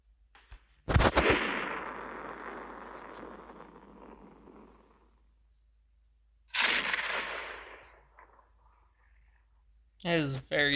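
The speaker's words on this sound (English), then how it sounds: "Okay, more fireworks." Fireworks go off in two loud crackling bursts with sharp bangs, each fizzing and fading over a few seconds, followed by a person speaking briefly at the end.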